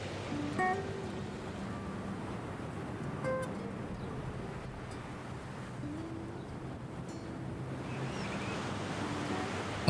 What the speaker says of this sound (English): the strange sounds were just waves crashing through the underground tunnels